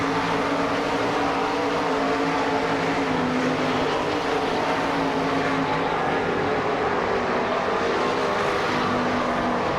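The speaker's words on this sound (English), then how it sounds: "Jacobs working the inside of Kinzer in turn 3." Sprint race cars roar around a dirt track at the Bauman Memorial in Sarver, Pennsylvania, a continuous loud engine howl with no pauses, heard from trackside.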